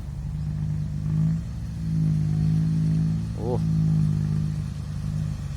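Loud exhaust of a six-wheel dump truck heard from about a hundred metres away: a steady low engine rumble that swells and eases in slow waves, with a person talking over it.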